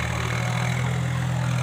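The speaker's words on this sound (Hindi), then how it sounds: "ये ट्रैक्टर चल रहे हैं खेतों में, इसकी बुआई होगी।" Tractors working farm fields in a village give a steady low engine drone with a constant hum, continuous and fairly loud, with no voices over it.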